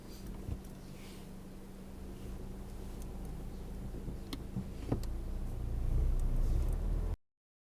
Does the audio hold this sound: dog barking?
no